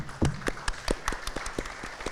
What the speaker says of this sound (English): so quick round of applause for them, please.